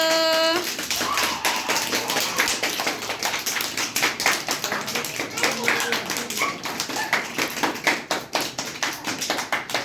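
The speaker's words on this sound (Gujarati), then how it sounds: "ચાલો બાળકો, બધાય તાળી પાડી દો" Quick, uneven clapping from a small group of children at an anganwadi birthday celebration, steady throughout with faint voices underneath.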